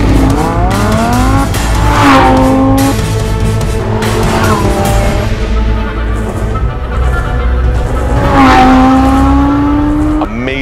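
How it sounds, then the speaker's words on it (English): A Lamborghini Huracan LP610-4 sports car runs loud and close on a 1.2-mile racetrack in Las Vegas. The engine revs rise and fall repeatedly through upshifts, and the tires squeal under heavy acceleration. "to show you the all new, the brand new Lamborghini Huracan"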